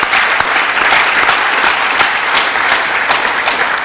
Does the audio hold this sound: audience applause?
yes